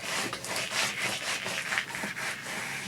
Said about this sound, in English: we're going to rub that center and make sure it really is stuck